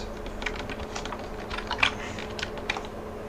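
Code being typed on a computer keyboard, a quiet, close series of light key taps with uneven rhythm and a slightly louder cluster midway, over faint room hum.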